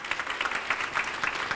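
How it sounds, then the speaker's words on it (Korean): An audience claps at a graduate school orientation, a dense, steady round of applause from many hands with no voices over it. "다시 한번 박수 좀 부탁드리겠습니다"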